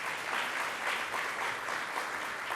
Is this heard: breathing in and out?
no